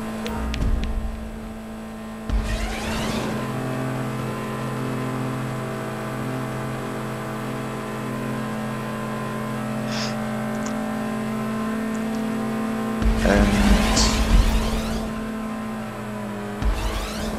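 A small car from the GTA 5 racing game drives up a ramp in a mall, its steady engine drone holding throughout with low hum tones, and two louder bursts of revving or impact noise near the start and end.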